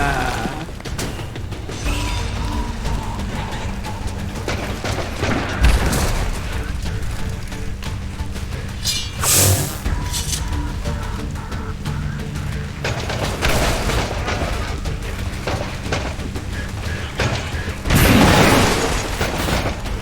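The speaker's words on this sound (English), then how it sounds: "Incoming fire!" Gunfire and explosions in the XCOM 2: War of the Chosen video game, with sustained dense combat noise, repeated booms and bursts of shots, and a few louder blasts standing out.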